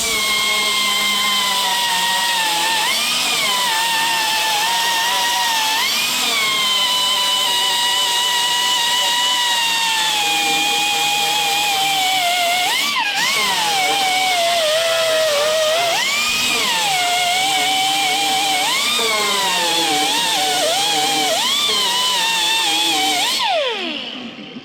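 A power tool whines steadily as it polishes a repaired caged nut on a 1957 Ford fender, its pitch wavering under load, loud and continuous before cutting off at the end.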